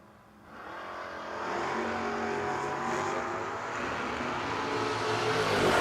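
A Dodge Dart and a 1969 Camaro launch side by side in a no-box drag race, engines rising from a low rumble into a loud, sustained high-revving roar heard from trackside.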